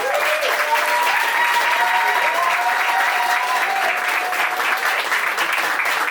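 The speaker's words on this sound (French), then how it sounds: "C'est encore énormément de bruit pour Romain Stura." Loud, steady applause from an audience fills the whole stretch, dense and continuous, with a few faint tones beneath.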